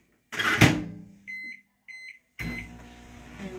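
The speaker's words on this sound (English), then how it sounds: "we're going to put it in the microwave now." A microwave oven heating puffer paint gives a loud thump, then a few short electronic button beeps, before its steady running hum starts up close by.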